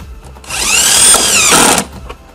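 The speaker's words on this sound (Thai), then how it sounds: "ใช้โฮซอในการเจาะนะเพื่อนโฮซอในการเจาะ" A power drill drives a hole saw through metal during a car audio install in an Isuzu, a loud, rising whine that holds for over a second and then stops abruptly, with no talking.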